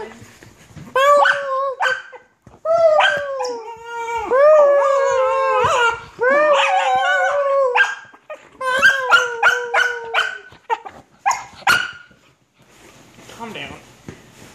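A young dog howls and yips in long, rising, drawn-out cries with short barks between, loud and close, filling most of the stretch.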